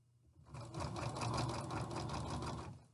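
A sewing machine runs a zigzag stitch along the neck edge of an isolation gown, a steady fast close-up whirring hum with rhythmic needle ticks after a quiet start.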